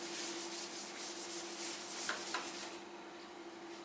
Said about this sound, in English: I am rubbing the board here